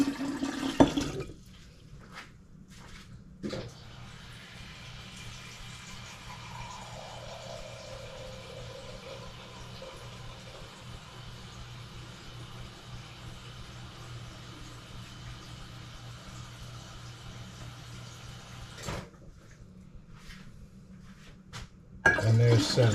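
Water is poured into cups, a long steady trickling and filling sound at moderate distance, with clinks of dishware at the start and end.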